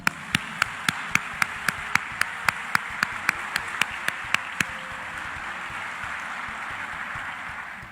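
A slow, evenly spaced series of single claps rings out over a hushed background, then stops, leaving a quiet murmur.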